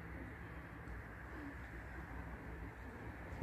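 Racing pigeons in a loft give a few soft, low coos that sit faintly over a steady background hum, with no other clear sounds around them.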